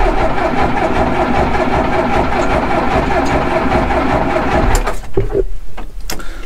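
An old tractor engine runs as it is started, a loud, rough, steady mechanical rumble close by that suddenly drops away near the end, leaving a few knocks and clatters.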